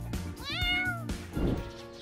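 A cat meows once in a drawn-out, rising and falling call, close and clear over a steady low background hum.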